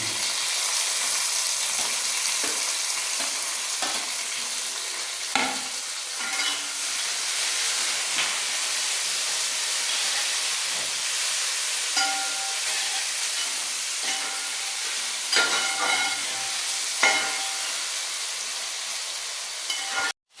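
Sliced onion, curry leaves and bitter gourd sizzle steadily in hot oil in a pan, a continuous close crackling hiss with occasional louder pops and spatters, no voices over it.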